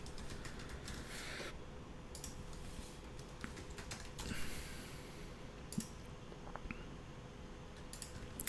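Fingers typing on a computer keyboard at a desk, an irregular patter of close clicks with brief pauses and a soft room hum beneath.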